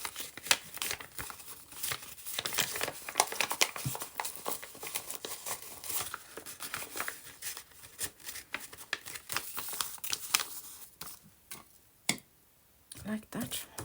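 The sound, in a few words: printed paper being folded to look antique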